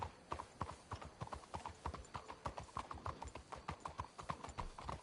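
Horse hooves clip-clop in a steady, even rhythm in Red Dead Redemption 2, several horses walking together at close range with no voices over them.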